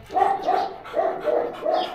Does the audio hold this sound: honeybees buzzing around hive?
no